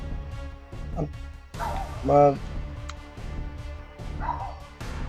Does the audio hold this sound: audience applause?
no